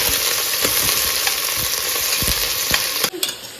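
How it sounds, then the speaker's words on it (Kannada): Onions and chillies sizzle steadily in a hot pan, with a spoon stirring and scraping at intervals. The frying is close and continuous, with no talking. "ಆನಿಯನ್ನು ಮತ್ತು ಮೆಣಸಿನ್ಕಾಯಿ ಹಾಕ್ಬಿಟ್ಟು ಚೆನ್ನಾಗಿ ಹುರ್ಕೋಬೇಕು ಗೈಸ್"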